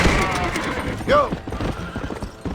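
In Red Dead Redemption gameplay, a horse gives one sharp, rising and falling whinny over the steady clip-clop of galloping hooves, with a voice shouting at times.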